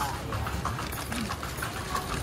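A horse pulls a kalesa carriage through Intramuros, its hooves clip-clopping in a steady rhythm over continuous street and wheel noise while people talk throughout.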